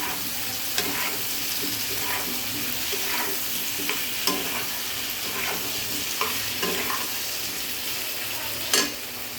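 Fried taro, potato and eggplant are stirred into a sizzling parshe fish curry in a pan, with a continuous frying hiss and repeated scraping stirs close by.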